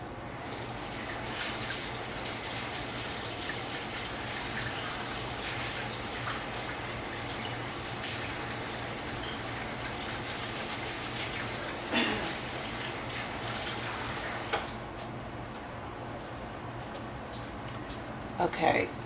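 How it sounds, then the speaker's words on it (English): Tap water runs steadily at a kitchen sink while hands are washed during meatloaf preparation, making a continuous rushing hiss with a few faint knocks and splashes toward the end. "let me wash my hands again"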